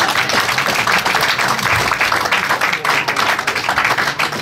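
A comedy club audience applauds Renaud with a loud, continuous burst of clapping that fills the room, close and dense, with faint crowd murmur mixed in.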